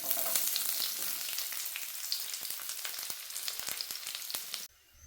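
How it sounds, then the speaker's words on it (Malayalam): Chopped onions frying in hot oil, with cashew nuts already in the pan, in a home kitchen: a steady close sizzle with scattered crackles and pops, then an abrupt drop near the end. "ഉള്ളി ഒന്ന് മൂപ്പിച്ചെടുക്കാം."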